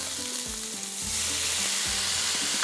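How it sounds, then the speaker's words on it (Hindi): Soy sauce fries lightly in a hot pan for honey beef noodles, a loud close hiss of sizzling that swells and stays steady, under a low repeating tonal hum. "सोया सॉस है, हल्का सा इसको पहले फ्राई कर लीजिए"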